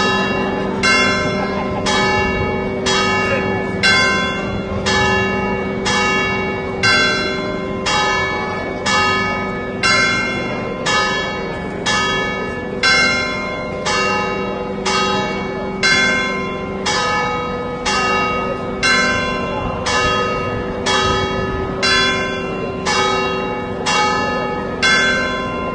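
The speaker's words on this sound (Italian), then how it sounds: "a noi le campane piacciono" Church bells ring in a steady repeating peal, loud and close, each strike ringing on and overlapping the next throughout with no voices.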